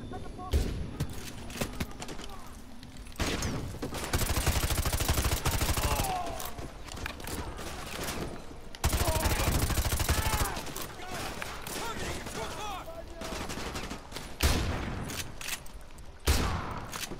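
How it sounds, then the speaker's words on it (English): Gunfire in a shooter game, with several loud, dense bursts of shots spread across the stretch, a player talking between and over them. "This is the worst shotgun I've seen"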